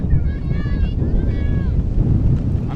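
Gusty wind roars steadily across the microphone at a softball game, with faint distant voices and whistle-like tones carried in the background.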